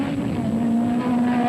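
An open-wheel racing car at the 1972 Newcastle Mattara hill climb, its engine holding a loud, steady high-pitched drone as it runs past, close and alone.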